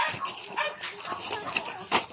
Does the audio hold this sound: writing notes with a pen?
no